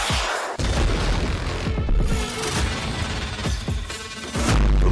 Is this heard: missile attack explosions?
yes